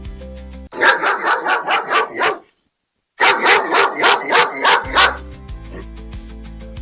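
A dog barks in two quick rhythmic bursts of about eight barks each, loud and close, separated by a short silence, with a quieter tone trailing at the end.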